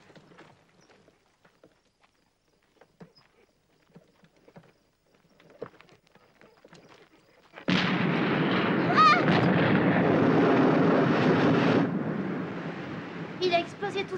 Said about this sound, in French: Il a explosé tout seul, monsieur Howard?